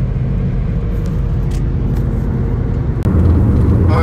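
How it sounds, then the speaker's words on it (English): A car cruises on a sunset drive as it swings around to head west, a loud steady engine and road rumble with a brief dip and a surge of low roar near the end. "I'm gonna whip this car around, head west"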